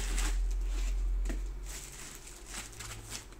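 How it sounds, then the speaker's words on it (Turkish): Foam packing pieces are pulled out of the box of an HP 15-DB1030NT laptop, making a few short close squeaks and rustles over a low hum, with no talking. "Şu köpükleri çıkartıyorum."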